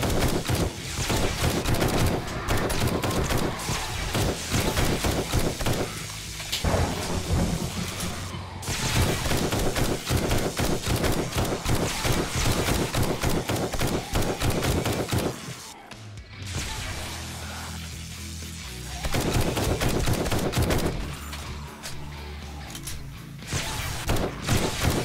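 Rapid bursts of gunfire in the zombie survival game 7 Days To Die, as a sniper shoots from a horde base; dense, loud volleys with brief pauses and crashes, and no talk over the shooting.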